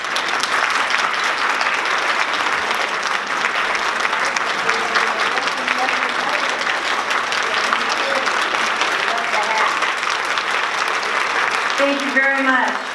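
An audience applauds steadily for Captain Donna Curtis Rowe as she is welcomed on stage, the clapping continuous and full across the whole stretch with a few faint voices underneath.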